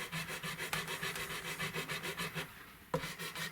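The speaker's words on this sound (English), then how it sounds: "So I'll just go over these frets about 10-12 times each with each grit" Grit paper is rubbed back and forth over the frets of a Jazz Bass guitar, producing a close, rhythmic series of rasping strokes, roughly three per second, with a brief pause before a final stroke.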